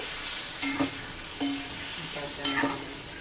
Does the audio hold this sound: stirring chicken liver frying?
yes